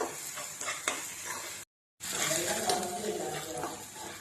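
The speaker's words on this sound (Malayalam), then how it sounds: "പച്ചമുളക് ഒന്ന് മാറി വരുന്നവരെ ജസ്റ്റ് നമുക്കൊന്ന് വഴറ്റിയെടുക്കാം" Ginger, garlic and green chilies sauté in a pan with a steady close sizzle and stirring scrapes, interrupted by a brief moment of silence.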